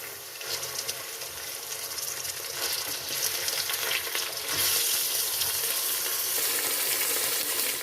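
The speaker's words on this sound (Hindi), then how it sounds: "2 से 3 मिनट को हम अच्छे से फ्राई कर लेंगे।" Small cut chicken pieces fry in a pan after the masala has been browned for a karela chicken curry, giving a dense, continuous close-up sizzle with occasional stirring and no voices.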